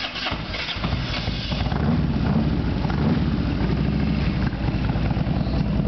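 A Harley-Davidson Electra Glide motorcycle with a Screamin' Eagle engine and performance exhaust rumbles at idle close by, a deep loping throb after a rougher first second, steady and loud with no talk.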